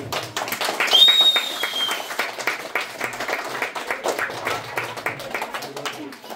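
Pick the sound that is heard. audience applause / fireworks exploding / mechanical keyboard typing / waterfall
audience applause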